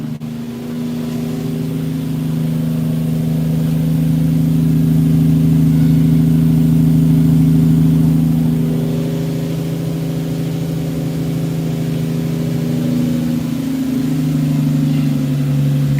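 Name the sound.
car engine revving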